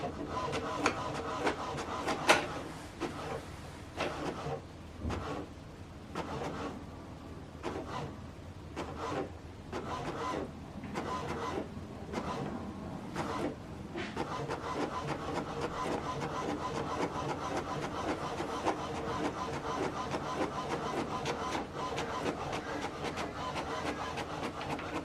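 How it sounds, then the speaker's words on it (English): An HP DeskJet 3700-series inkjet printer runs a print job, a steady mechanical whir with rolling carriage and feed noises, scattered clicks and knocks early on, then a continuous drone through the rest, close and moderately loud. "From your laptop, select continue, so that it will print out the second part."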